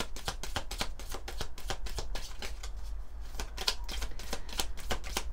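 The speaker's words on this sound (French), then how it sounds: "On va prendre quelques cartes du petit Béline." Tarot cards are shuffled and drawn in quick, crisp bursts of riffling and slapping, close and continuous throughout with a soft low hum underneath.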